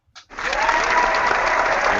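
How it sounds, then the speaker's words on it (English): Applause played as a sound effect, a brief faint onset then a sudden steady burst of dense clapping that stays loud and even for nearly two seconds, with no voices over it. "Can you hear the applause through your phone?"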